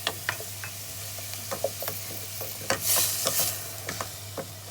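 Tomato goes into a hot pan for a vegetarian Moroccan sweet couscous. A soft sizzle sits under scattered clicks and scrapes of stirring, close and moderately quiet over a steady low hum.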